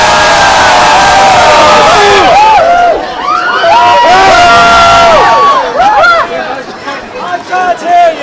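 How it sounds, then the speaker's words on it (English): A pirate-themed auction audience screams and cheers loudly, a dense wall of high-pitched shrieks and whoops that sustains for several seconds, dips briefly, then surges again with overlapping yells. "I want to hear some screaming."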